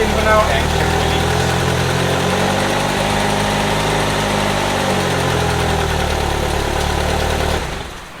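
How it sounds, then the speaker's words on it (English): A car engine idles roughly and unevenly after an engine swap, running on the old engine's ECU. The rumble is loud, close and steady with a knocking vibration, then cuts off abruptly near the end. "Not running really smoothly right now because the ECU is actually from the old engine and everything else is new"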